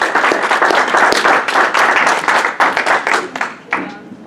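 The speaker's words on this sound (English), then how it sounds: "let's give her a big round of applause" An audience at a health conference applauds a speaker, loud and steady clapping from a crowd that tapers off into a few stray claps, with some talk mixed in near the end.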